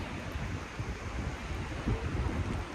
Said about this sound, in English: underneath it, there are crashing sounds of waves screaming